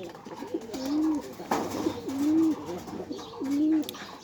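Pigeons coo nearby in three soft, rolling calls spaced about a second apart, each a low warbling phrase, with faint background rustle between them.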